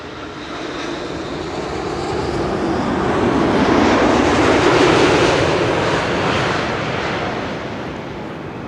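A large jet airliner on final approach to Schiphol's Kaagbaan runway 06 roars closer, swelling to a loud broadband rumble mid-pass and then fading as it goes by, with no voices.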